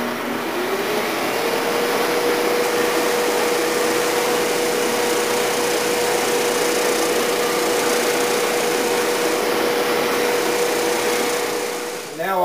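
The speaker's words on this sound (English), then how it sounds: "I can just take my form and run it along the table against the oscillating spinning drum, and that will clean up the high spots" An oscillating spinning drum sander whirs with a steady, even electric hum as a wooden bending form is run along its table, the motor droning alone before cutting off at the end.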